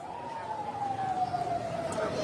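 A police car siren wails as a single steady, slowly falling tone that sounds fairly distant, running continuously through the short stretch with faint background noise.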